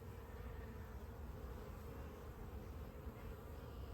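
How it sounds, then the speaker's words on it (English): Dense, steady buzzing of many honey bees in an open hive, a continuous hum filling the space without pause, fairly close but soft. "We don't need to disturb the bees any more than we have to."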